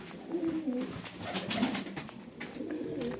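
Pigeons coo softly nearby in a loft, low throaty calls repeating over faint background noise.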